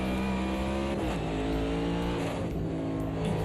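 A race car engine in Automobilista 2 sim racing, a steady loud whine that climbs in pitch and drops sharply at each gear shift, heard close and continuous.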